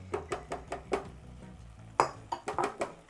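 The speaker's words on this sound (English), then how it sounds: "Just stir it around a little bit, mix it in." Beans and rice being stirred in a cooking pot for island-style rice and beans, a series of distinct clinks and scrapes of a utensil against the pot, steady and close, with no talking.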